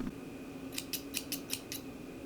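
A cheap pair of Daiso scissors snips six times in a quick, even series of sharp metallic cuts, close up and alone against quiet room tone.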